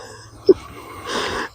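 Heavy breathing close to the microphone inside a tent: a short sharp sniff or wheeze, then a longer, louder breathy exhale.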